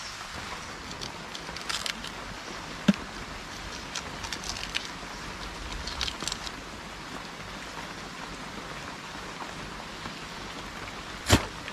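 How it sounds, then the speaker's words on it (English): Rain falls steadily on a remote island, a soft continuous hiss with scattered faint drips and crackles and a couple of louder taps, with no talking. "even though it's raining"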